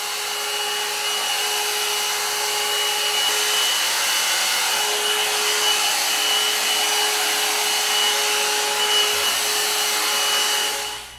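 A hair dryer running on its high setting, a loud, steady close whoosh with a constant whine that holds evenly throughout before cutting off at the end.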